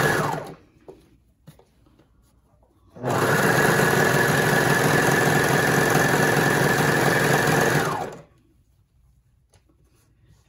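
A serger trims and stitches fabric for a leotard seam, its fast mechanical whir starting abruptly, running loud and steady for about five seconds, then stopping, with quiet before and after.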